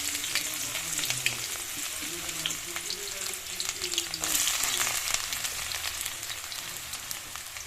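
Sliced onions and green chillies fry in oil for a chicken curry, giving a steady close crackling sizzle with faint stirring scrapes throughout and no talk.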